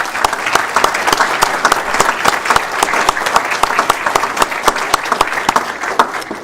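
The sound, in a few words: applause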